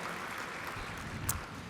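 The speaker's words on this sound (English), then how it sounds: "a quick round of applause" A brief burst of audience applause at the Pasadena Mayor's Interfaith Prayer Breakfast, steady and fairly even for under two seconds, heard on its own with no talking.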